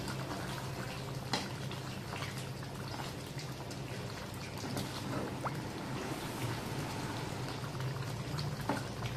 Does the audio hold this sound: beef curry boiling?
yes